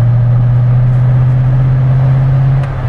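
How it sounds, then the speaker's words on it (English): An LS-swapped DeLorean with a Borla exhaust idles with a deep, steady, throaty exhaust drone, loud and close, holding constant for a few seconds. "Got a great sound. It's a Borla exhaust."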